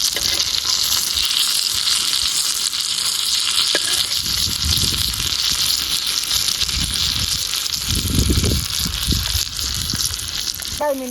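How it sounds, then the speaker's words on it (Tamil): Fish frying in hot oil during outdoor village cooking, a steady, close, continuous sizzle throughout with bursts of bubbling crackle; no one speaks. "மீனே பார்த்தீங்கன்னா பக்காவாக வறுத்து முடிச்சாச்சு ஃப்ரெண்ட்ஸ்"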